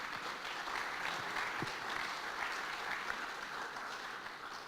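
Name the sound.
audience applause at a conference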